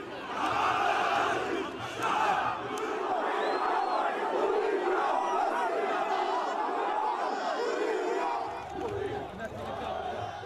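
A large crowd of Gaddafi supporters cheering and shouting in Tripoli as their leader's car drives back and forth, a dense, continuous roar of many voices close by that dips briefly near the end.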